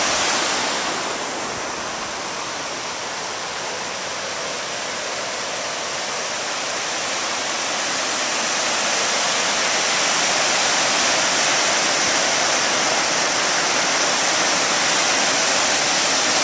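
The Rocky River, swollen and overflowing after a night of hard rain, gives off a loud, steady roar of rushing water that fills the whole clip without a break and with no voices.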